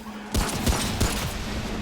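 A short burst of several rapid gunshots in quick succession, loud and close, with no talking, from the video game Remnant: From the Ashes.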